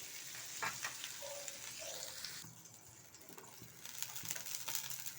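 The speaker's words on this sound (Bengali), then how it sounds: "এইবার আমি বড়িটাকে ভেজে নেব" Bori lentil dumplings frying in oil in a pan, a steady soft sizzle with occasional brief stirring scrapes, close and moderately loud, no talking.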